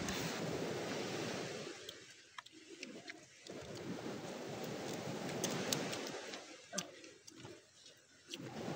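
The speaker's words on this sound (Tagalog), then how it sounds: "mahina na lang alon" Gentle ocean waves wash on the shore in a steady soft hiss, with wind buffeting the microphone and a few faint bird calls, no one talking.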